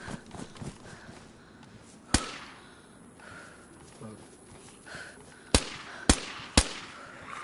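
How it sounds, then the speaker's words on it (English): Sharp pistol shots fired in DayZ, a few isolated cracks followed by a quick cluster of three near the end, over low game ambience and faint background noise. "I'm about to shoot these up. Yeah, I might use my pistol."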